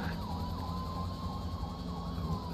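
A wailing police car siren sounds loud and close, sweeping up and down steadily throughout with no voices.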